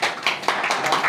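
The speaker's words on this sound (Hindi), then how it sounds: "आज तो तालियां लगनी चाहिए" A small group in a classroom claps briefly, uneven bursts of hand claps close by and fairly loud, with individual slaps audible in the short burst.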